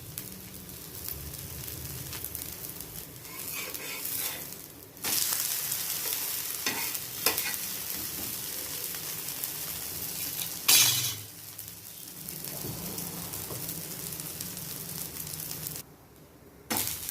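Dosa batter fries in ghee on a hot pan for an instant dosa, giving a steady close sizzle with a few brief dips and sharp scraping knocks, and no talking.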